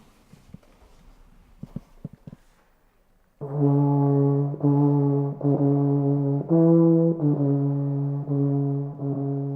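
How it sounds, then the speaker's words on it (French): A Napoleonic military march, the consular march of Marengo, played on a Russian bassoon in a museum room of the Château de Montmirail. After a brief quiet start, loud, low, reedy-brassy sustained notes sound alone in a steady march rhythm. "La marche consulaire de Marengo."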